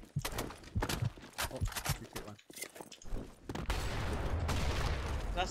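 Rapid gunfire in the online shooter Blackshot during a clan match, bursts of close shots in the first half followed by a dense sustained rattle, with a voice speaking in between.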